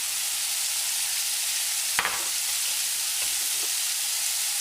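Onions sizzle and fry steadily in a hot pan for spaghetti bolognaise, a constant close hiss with a few scraping stirs partway through.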